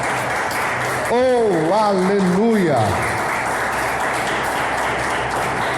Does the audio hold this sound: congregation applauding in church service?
yes